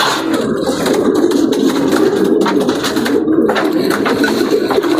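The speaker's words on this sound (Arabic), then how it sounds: "راه حمام بمستوى عالي" Pigeons coo steadily in a loft of racing and breeding pairs, a dense, continuous murmur of many birds close by with no talk over it.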